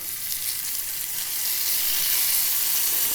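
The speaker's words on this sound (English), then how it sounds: "So you're going to hear a little bit of sizzle now." Loud, steady hiss and crackle of beef frying in hot oil, close up, building slightly in intensity, no voices.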